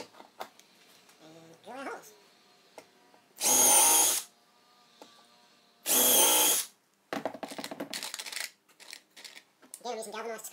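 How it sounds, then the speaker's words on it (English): A power drill bores holes in wood while building a laundry basket stand, two loud sustained whirring bursts of about a second each, separated by quieter handling clatter and brief talk. "Drill our holes."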